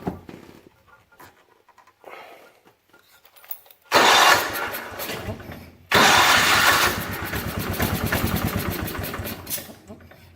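A 1968 John Deere 110 garden tractor engine cranks in two loud bursts, the first lasting about two seconds and the second running on, each sputtering without catching cleanly after a quieter stretch, with faint voices now and then.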